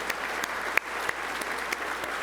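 Applause from a crowd at a charity breakfast program, a steady, fairly distant patter of many hands with a few sharper claps popping out near the front, moderate in level.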